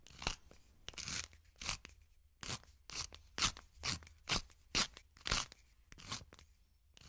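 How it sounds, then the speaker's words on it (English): A storyteller's sound effect for a magic mill grinding: a run of rhythmic, crunchy grinding strokes, about a dozen evenly spaced bursts, close and fairly loud with no talk over them. "The mill started grinding."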